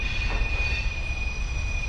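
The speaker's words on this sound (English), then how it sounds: "There's a train going by." A train passes near Rose Hill Cemetery in Macon, Georgia, with a sustained high-pitched wheel and brake squeal ringing over a loud, continuous rumble of rolling cars.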